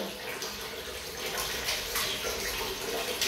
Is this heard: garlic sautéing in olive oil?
no